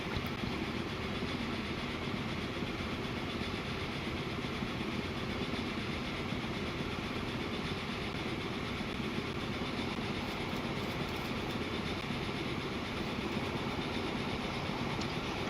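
A freight train in Transport Fever 2 rolls along in a steady, continuous wash of rail and engine noise, with no clear breaks and no talking.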